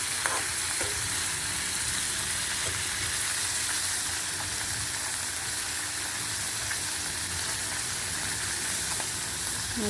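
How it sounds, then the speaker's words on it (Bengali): Fish fries in a pan with loud, continuous close sizzling and bubbling, broken by occasional crackles. "মাছ নিয়ে মাছটাকে ভেজে নিই ভালো করে"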